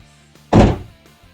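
A single loud, solid thunk of a New Edge Ford Mustang's car door being shut, close by, with a short decay and quiet surroundings before and after.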